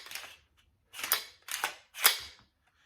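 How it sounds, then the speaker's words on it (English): Home defense pistol having its magazine dropped and the action cleared, four sharp metallic clacks spaced roughly half a second apart, close and crisp, with quiet pauses between. "So the first thing I'm going to do is drop the mag and clear it."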